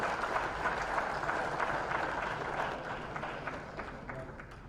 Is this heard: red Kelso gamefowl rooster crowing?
no